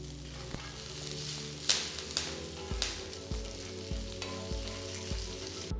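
Dry red chillies and curry leaves sizzle in hot oil, a dense continuous frying crackle close by, punctuated by several sharp stirring knocks.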